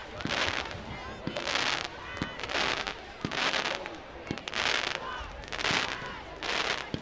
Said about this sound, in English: we'll leave you with some fireworks going off here